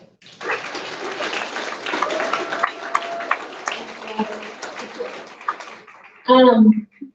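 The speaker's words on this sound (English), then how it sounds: "Give yourselves a big round of applause" A political rally crowd in Texas breaks into a round of applause, steady clapping and cheering that holds for several seconds before fading, followed by a short burst of voice.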